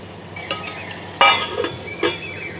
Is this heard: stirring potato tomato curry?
yes